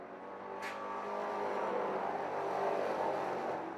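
Race cars at Utica-Rome Speedway roaring past in a sustained, loud engine drone that swells and holds, with a brief sharp burst near the start.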